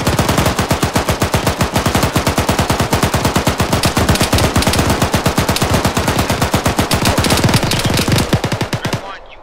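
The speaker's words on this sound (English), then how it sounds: "You will take an HMG fire from the south" Heavy machine gun fire in ArmA 3, one long unbroken burst of rapid, loud, evenly spaced shots lasting about nine seconds before cutting off, with no voices.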